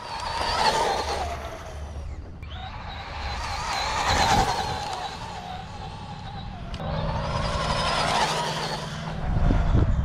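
A Traxxas Bandit VXL RC car races around, its electric motor whining loudly in rising and falling surges as it accelerates, pulls wheelies and eases off, with a faint voice in places.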